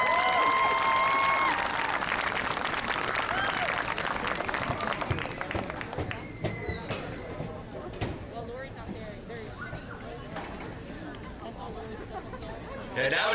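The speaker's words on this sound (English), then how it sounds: "let's have a nice round of applause for our entire homecoming court" Crowd at a high school football game applauding the homecoming court, clapping mixed with cheers and chatter that starts loud and thins out over about thirteen seconds.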